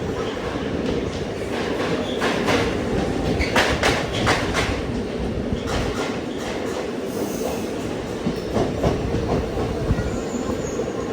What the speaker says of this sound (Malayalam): തൃശ്ശൂർ റെയിൽവേ സ്റ്റേഷനിലേക്ക് ഇതാ നമ്മുടെ വണ്ടി എത്തിക്കൊണ്ടിരിക്കുകയാണ്